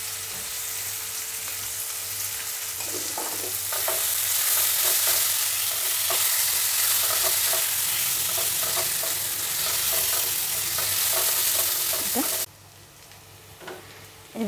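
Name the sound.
potatoes with turmeric and salt frying and being stirred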